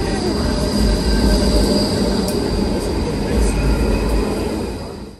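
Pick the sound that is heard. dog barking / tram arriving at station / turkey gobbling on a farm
tram arriving at station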